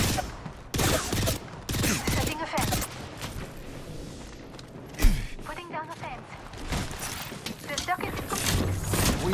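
Gunfire in Apex Legends: repeated sharp bursts of shots and rattling fire with mechanical clicks and a heavier impact midway, mixed with a voice talking throughout.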